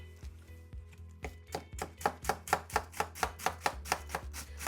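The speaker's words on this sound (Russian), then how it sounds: "Капуста режется." A knife chops cabbage for sauerkraut on a cutting board, starting with a few sparse strokes that build into a fast, steady run of crisp, even thuds, close and clear with no talking.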